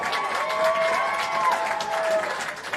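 Rugby union crowd at a third-grade grand final between Brighton and Burnside applauds and cheers a successful conversion, a steady mass of clapping with shouts and whistles throughout.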